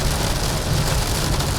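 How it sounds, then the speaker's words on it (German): Heavy rain drumming on the roof of a 2021 Westfalia Kepler One camper van, a dense, loud, unbroken patter that fills the space with no voices. "Und das bei so lautem Regen."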